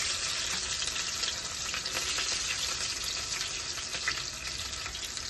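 Lightly crushed ginger and garlic frying in hot oil for a Kerala-style fish curry, giving a dense, continuous close-up sizzle with faint stirring beneath and no voices.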